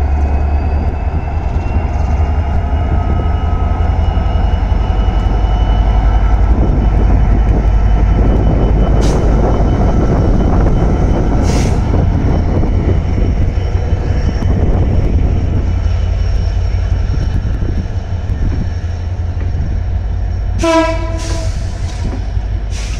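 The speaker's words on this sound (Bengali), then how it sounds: "বিশাল বড় ট্রেনটি।" A large train rolls past at Joydevpur station, its loud, steady rumble and rattle filling the whole stretch with strong wind noise, then a horn blast near the end.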